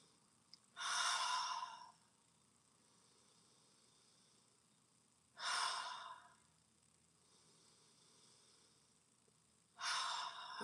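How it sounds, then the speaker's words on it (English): Three slow, deep breaths sound close and soft against quiet background hiss, each a breathy sigh-like exhale lasting about a second, spaced roughly four seconds apart. "Take in 3 deep breaths."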